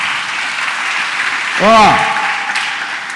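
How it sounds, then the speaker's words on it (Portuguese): A church congregation breaks into a dense wash of applause, and a brief voice rises over the clapping midway through. "Dá um aplauso"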